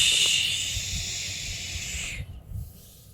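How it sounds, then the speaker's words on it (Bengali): Milk pours into a cooking pan in a small home kitchen, giving a steady hissing splash that lasts about two seconds and then cuts off, leaving low clatter and faint handling noises. "এবার দুধ ঢেলে নিচ্ছে এখন"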